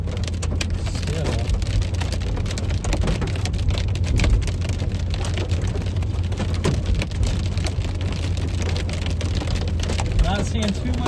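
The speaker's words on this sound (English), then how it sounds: "We are accidentally intercepting some hail right now." Small hail and heavy rain pound a vehicle during a destructive supercell storm over McCook, a dense steady rattle close by with a low rumble underneath, continuing throughout.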